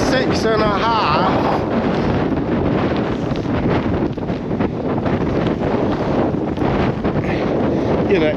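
Strong gusty wind on open Dartmoor moorland buffets the microphone with loud, continuous roaring and surging rumble, while a person talks beneath the gusts.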